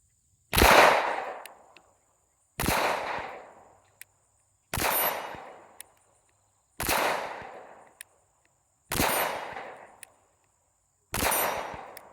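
Six loud, sharp Glock pistol shots fired at a 25-yard range, spaced about two seconds apart, each with a short echoing decay.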